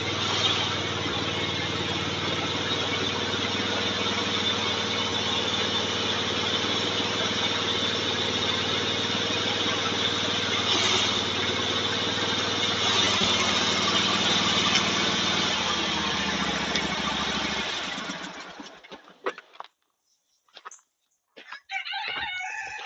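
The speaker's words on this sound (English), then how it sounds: "I'm going to go get a garden tractor and hook to the front" Garden tractor engine running steadily and loud nearby beside a log splitter fitted with a Gorillabac log lift, a constant droning hum that cuts off near the end, leaving a few scattered handling noises.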